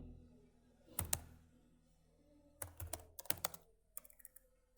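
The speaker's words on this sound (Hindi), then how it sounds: "राइट के अंदर मैं यहाँ टाइप करता हूँ दिस फाइल" Someone types at a close computer keyboard, producing irregular bursts of clicking keystrokes with pauses between them, quiet and alone.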